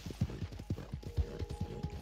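Hooves clip-clop steadily as a horse named Bob walks through New Austin in Red Dead Online, a sure-footed-challenged mount; regular dull thuds about four per second, fairly close, with a faint steady tone in the background.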